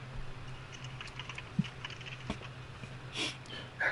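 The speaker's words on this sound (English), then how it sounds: "just Bob typing" Someone typing on a computer keyboard indoors, scattered light key clicks with a few sharper taps, close and fairly quiet against a low background hum.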